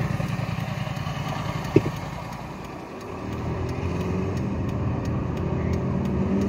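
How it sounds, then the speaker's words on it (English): A car driving, heard from inside: a steady low engine drone and road rumble with one brief click, the engine note rising slightly partway through, with no talking. "I'm just driving and vlogging at the same time."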